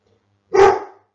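A dog gives a single loud, close bark that lasts about half a second in an indoor home setting, with no talk over it.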